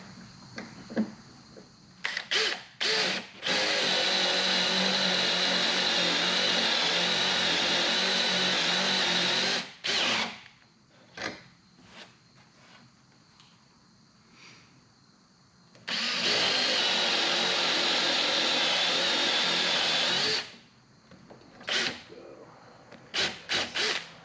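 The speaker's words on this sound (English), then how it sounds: "what I'm going to do is hog that out with the Forstner bit here" Forstner bit boring out wood in two long bursts, each a loud steady drilling whine with rough cutting, separated by quieter gaps with scattered knocks and handling noises.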